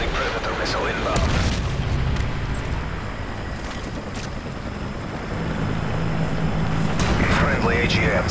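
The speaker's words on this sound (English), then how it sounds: "Friendly Predator missile inbound." A Predator missile explosion from the video game Modern Warfare 3: a dense, sustained low boom with rumbling blast noise that swells near the end, heard among game sound effects with no clear talking.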